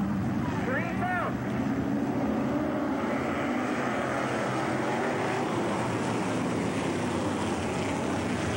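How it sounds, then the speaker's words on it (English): Open-wheel modified race cars at a 1988 Wilmot feature race make a constant, loud, far-off engine roar and drone across the whole stretch, with a brief rising and falling whine near the start. "The open wheel modified feature, the final race of the night."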